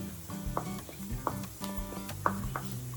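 Green chillies sizzle in hot oil while being stirred in a pan for rava appe, a steady frying hiss broken by scraping spatula strokes.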